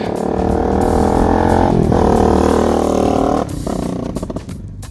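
A Lifan motorcycle engine, a KP Mini build with a 300 or 250 motor, revs loud and close in a sustained buzzing drone, dipping briefly twice before easing off near the end.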